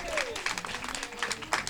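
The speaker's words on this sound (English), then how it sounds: "Clap it up." A screening event audience breaks into applause, a steady wash of many hands clapping at moderate distance across the room, with a brief voice mixed in.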